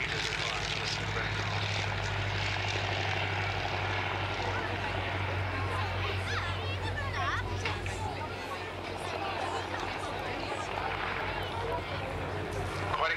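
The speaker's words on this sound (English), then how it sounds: "There he is, bringing it back in again to the most remarkable touch and go." A Fieseler Storch light aircraft makes a touch-and-go landing, its propeller engine a steady, loud drone throughout while someone talks over it.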